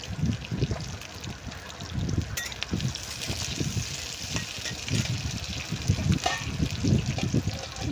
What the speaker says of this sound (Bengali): এখন ঝাল পেঁয়াজগুলোকে আলতো হাতে নাড়তে থাকবো